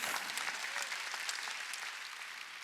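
A church congregation at a Wednesday worship service applauds together, a dense, even burst of clapping that holds steady and then tapers slightly.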